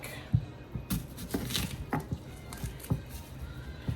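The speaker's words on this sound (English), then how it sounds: "let's cut up half of this onion" A knife cuts half an onion on a board, giving a quiet, close series of irregular taps and crisp slicing strokes, roughly one every half second.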